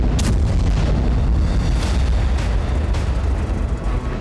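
Heavy bombing on the Ukraine war front line makes a dense, continuous roar of booms and explosions. Several sharper blasts punch through the loud rumble without pause.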